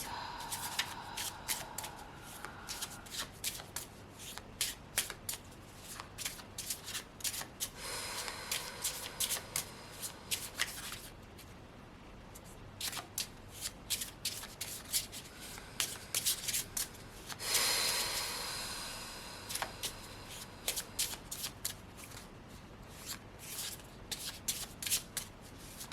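Tarot cards are shuffled repeatedly by hand up close, producing bursts of crisp riffling and slapping with brief pauses between, alone and fairly quiet.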